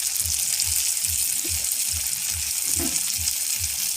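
Spices are stirred in a frying pan with a steady sizzle, while rhythmic scraping strokes of a spoon repeat about every half second, close and clear, with no talking.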